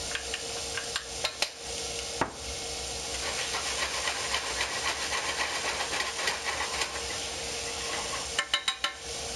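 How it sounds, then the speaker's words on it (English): Onions fry in a hot pan with a loud, steady hiss, broken by a few sharp utensil clicks at the start and a quick run of taps near the end, no talking. "Second in, the onions."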